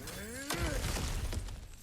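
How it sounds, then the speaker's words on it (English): A heavy smash through an obstacle in God of War Ragnarok, a sharp loud crack and shattering burst at mid-clip with debris tumbling after, following a rising whoosh. "back to smashing through things for fun and profit"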